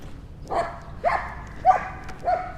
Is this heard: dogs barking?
yes